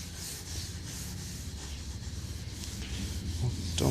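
Pumice is rubbed by hand over a polyurethane finish in a continuous close, gritty scrubbing, with steady rhythmic strokes that grow slightly louder toward the end.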